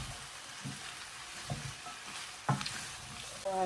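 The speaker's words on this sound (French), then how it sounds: "Là, je vais mélanger le gombo." Okra sauce with smoked meat being stirred in a pot, a quiet sizzle with soft scraping and a few light knocks from the spoon.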